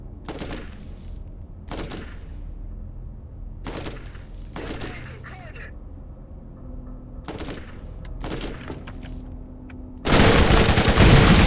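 Gunfire in the video game Borderlands: several sharp shots spaced a second or two apart over a low game ambience, then a sudden loud burst of sustained firing at the end.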